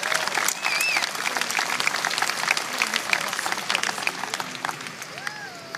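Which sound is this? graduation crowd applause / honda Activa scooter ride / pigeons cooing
graduation crowd applause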